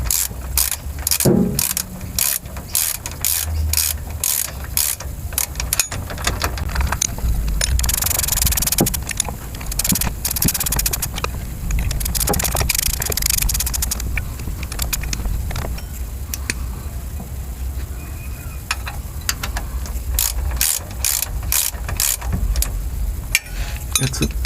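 A ratchet snugging bolts on a Toyota Prado rear differential during a Lokka auto locker reinstall, giving rapid bursts of close metallic clicking that repeat over a low mechanical background.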